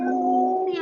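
A voice imitates a cat's meow, one short, close, drawn-out cry with a rising whine at the end, heard alone.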